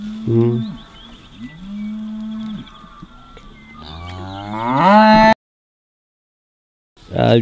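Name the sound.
cattle mooing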